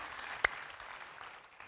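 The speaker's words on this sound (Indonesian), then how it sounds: "Tepuk tangan buat Tuhan kita ya" A church congregation claps during a Sunday service, a soft, distant patter of hands with one sharp nearby clap standing out early on.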